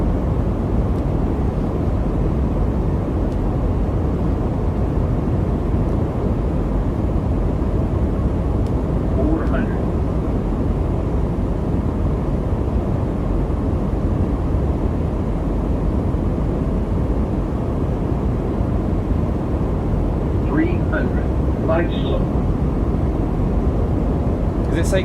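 Airbus A220 jet engines in Microsoft Flight Simulator 2024 hold a steady, loud broadband roar throughout, with a few faint chirps and short cockpit tones near the end during the approach to Palermo.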